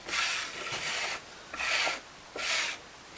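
A Kindle card scrapes across a clay surface to flatten it, making three soft, raspy rubbing strokes with short pauses between them, close and fairly quiet.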